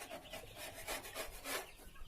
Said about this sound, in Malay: saya kikis najis-najis yang ada dekat partition ke ataupun dekat tepi dinding ni